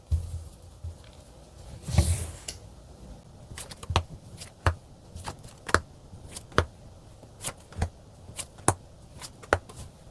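Tarot cards being drawn from a deck: one broader shuffle-like burst near the start, then a steady series of sharp, close card snaps and slides, about a dozen crisp ticks spaced irregularly, with no voices.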